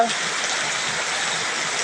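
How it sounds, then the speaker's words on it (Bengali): Heavy rain pours at Rampur bazaar beside a river in Kishoreganj, making a loud, dense, unbroken wash of falling water. "কি সুন্দর প্রচুর পরিমাণ বৃষ্টি হইতেছে"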